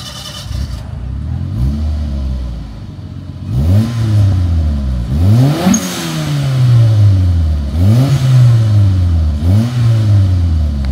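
A tuned car exhaust revs repeatedly, each blip rising sharply and falling back, about five loud throaty revs in a row, close by with no talking.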